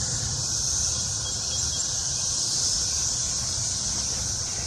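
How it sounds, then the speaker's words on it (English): Cicadas in a garden fruit tree drone in a loud, steady, high-pitched buzz that holds without a break, close and alone with no voices. "Cicada on there too."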